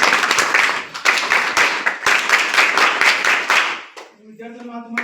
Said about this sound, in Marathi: त्यामुळे सगळ्या मुलांसाठी टाळ्या झाल्या पाहिजे.